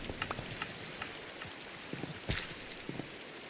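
Faint, steady broadband rush of water flowing along a pipe into a stream in a video game, with soft splashing ticks and no talk.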